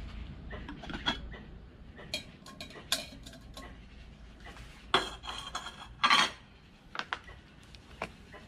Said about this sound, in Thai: เดี๋ยวเราก็ตั้งหม้อเลยครับ